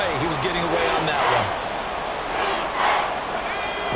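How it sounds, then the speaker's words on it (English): Stadium crowd noise from the Madden 24 football video game, a steady, loud roar with swelling cheers that rise and fall throughout, with faint voices mixed in. "This crowd turning up the decibel level."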